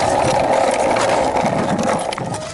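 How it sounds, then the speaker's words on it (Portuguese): A toy dog rolls along on a very small skateboard, giving a continuous close, loud rattling scrape of little wheels on a hard surface that barely lets up. "E olha o cachorro andando de skate. Só que esse skate são é muito pequeno."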